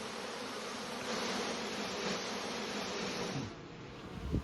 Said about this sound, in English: Bees in a pillowcase brought by a friend of mine. You can hear them.